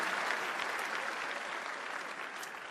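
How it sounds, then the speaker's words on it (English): Sustained applause from an audience at a 2013 Samsung keynote, a dense even wash of clapping at steady volume throughout. "Ladies and gentlemen, round of applause for Mr. Menno Vandenberg"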